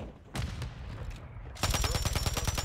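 Gunfire in the Warzone 3 video game: scattered shots at first, then a rapid, loud automatic burst of evenly spaced reports over the last second.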